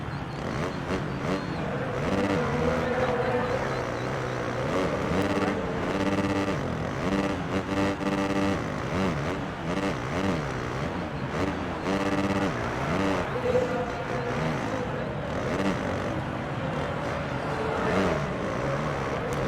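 A motocross bike engine in the Monster Energy Supercross video game drones and revs continuously, its pitch rising and falling with gear changes through corners at moderate level, with no speech over it.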